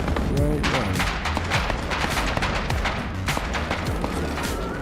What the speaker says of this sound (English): I heard somebody shooting me